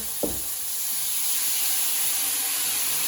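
Water hits a hot frying pan with a quick splash, followed by a loud, steady sizzling hiss that carries on to the end.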